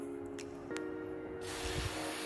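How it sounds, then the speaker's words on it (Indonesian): Rexco cleaner sprays in a hissing burst onto a used graphics card board and heatsink, coming after a few faint clicks and taps and continuing as a steady close spray. "Semprotkan saja bagian board, heatsink."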